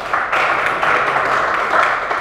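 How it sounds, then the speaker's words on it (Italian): Sustained applause from a crowd at a women's volleyball team presentation for Rossella Virtus Civitanova, steady and dense, greeting the team's athletic trainer. "comunque un applauso anche a lui"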